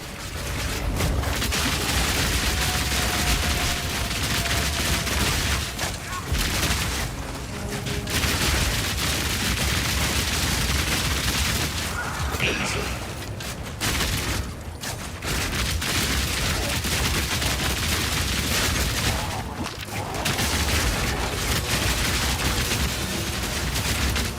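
Turret gunfire in Path of Exile 2 rattles in dense, sustained bursts, a near-constant barrage of loud shots with brief gaps every few seconds.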